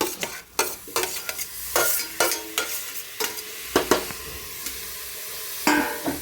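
Chopped tomatoes sautéing with softened onions in a pan for chicken curry, with sharp repeated spatula scrapes and stirring clatter over a steady, close sizzle.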